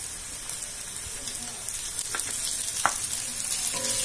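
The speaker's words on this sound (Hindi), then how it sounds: "देखिए बातों बातों में हमारी जो सब्जी मसाला है फ्राई हो गया है" Vegetable masala frying in a pan for a macaroni dish, a steady close sizzle with a few faint stirring clicks and scrapes, no talking.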